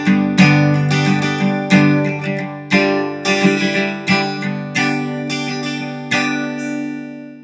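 Acoustic guitar plays the riff from a song, plucked notes and slides in a steady rhythmic phrase, close and clear with ringing strings, no talking.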